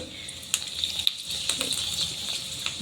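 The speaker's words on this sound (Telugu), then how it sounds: "ఆనియన్స్ అయితే వేయించుతున్నాను" Onions sizzle in a pan, a steady close crackling fry with scattered pops and a light stir or two, no voices over it.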